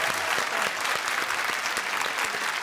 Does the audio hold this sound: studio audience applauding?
yes